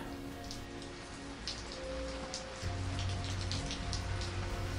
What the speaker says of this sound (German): Regen auf Metall und Glas.